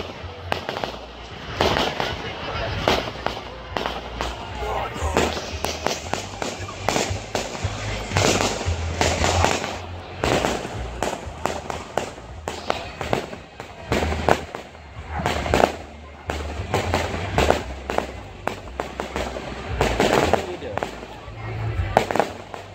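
A full fireworks show going off, with repeated loud bangs and crackling bursts in an irregular barrage, some near and some farther, with voices talking now and then over the explosions.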